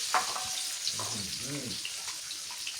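Eggs frying in hot oil for a Thai son-in-law eggs dish, giving a steady broadband sizzle throughout with a few brief clatters and a short burst of speech partway through.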